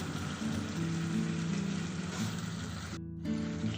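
Water poured into hot fried masala in a pan for catla fish curry sets off a steady, close sizzle and bubbling that carries on evenly, with a brief dip before the hiss resumes.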